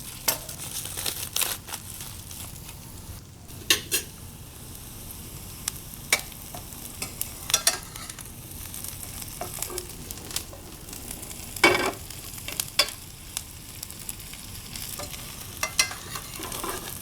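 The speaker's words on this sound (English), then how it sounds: "So single layer of the onions and garlic, so it caramelizes nicely." Onions and garlic spread in a single layer sizzle softly in a pan, with irregular scrapes and stirring clicks from a utensil.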